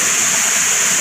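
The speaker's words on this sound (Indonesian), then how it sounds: "air terjun ataupun curug bulu" The Curug Buluh waterfall in Lahat drops about 100 meters, giving a loud, close, unbroken hiss and rush of falling water with no other sounds.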